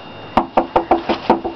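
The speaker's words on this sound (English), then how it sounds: "Knock on the door" Seven sharp knocks on a wooden door, evenly spaced and loud, in a quick steady rhythm with nothing else heard.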